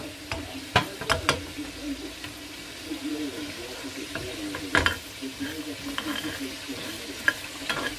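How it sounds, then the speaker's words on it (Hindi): Baloch-style chicken pieces, turned to their other side, fry gently in a pan. A soft, continuous sizzle runs beneath clattering stirs and scrapes that cluster near the start and again midway, with no talking. "अब मैं दूसरी साइड पे ये भूनने लगी हूँ। ये हल्का सा फ्राई करेंगे हम।"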